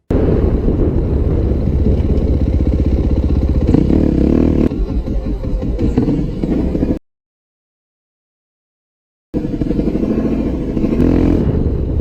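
A motorcycle rides along a road, its engine a loud, close, steady drone with rising revs and some rattle, briefly cutting to silence before the engine noise returns.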